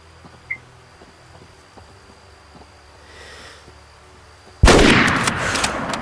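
A hunting rifle shot in the video game Way of the Hunter cracks out loud and sudden after several seconds of quiet outdoor ambience with faint insect chirps, then its roar rolls on and decays across the landscape.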